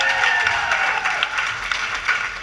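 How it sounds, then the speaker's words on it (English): An audience at a stand-up comedy show breaks into a burst of applause, dense clapping filling the room for a couple of seconds. "can we please have a round of applause"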